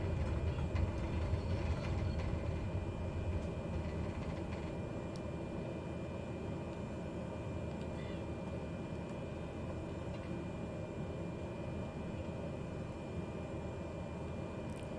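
A plane slowly taxiing fills the cabin with a constant low engine drone, dense and unbroken, with a few faint clicks and rattles on top and no talking.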